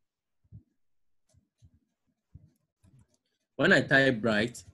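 A handful of faint, sparse keystrokes tap on a computer keyboard in a quiet room, then a voice starts speaking near the end.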